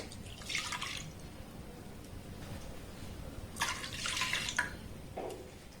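Liquid milk poured into a kadai already holding a little water: two soft splashing, trickling pours separated by a pause, close and fairly quiet against a faint background hiss.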